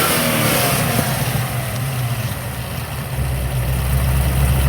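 A supercharged 850 hp Holden VF2 Commodore SSV Redline sedan holds a loud, close, low idle, with a brief lift in revs early on before it settles back to a steady rumble.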